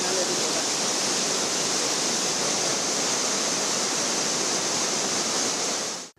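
Flooded Courtallam waterfalls in Tenkasi after heavy rain, a loud, dense and unbroken roar of rushing water that holds steady for several seconds before cutting off.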